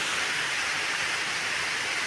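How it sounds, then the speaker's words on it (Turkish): Waterfall near the Clandras bridge, a steady broadband rush of falling water that stays constant and dense throughout, with no talk. "İşte şelale."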